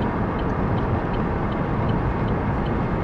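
Steady rushing road and wind noise pours through open windows of a Chevy Volt while driving, a constant broadband roar with no pauses or speech.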